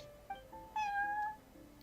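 The cat Prince at the Cat's Tail tavern in Genshin Impact gives two close meows, a short chirp followed by a longer drawn-out meow, with quiet background between.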